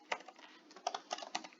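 Short bursts of key presses on a shop till keyboard while an item name is typed in, the quiet clicks clustered in a few quick groups with small gaps between them and no talking.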